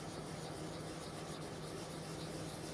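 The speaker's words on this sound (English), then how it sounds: "I'll just start sanding away at that." Steady, continuous abrasive rasping of sandpaper rubbed over a seam on a Bandai 1/500 scale plastic model kit, close and even in level with no pauses or voices.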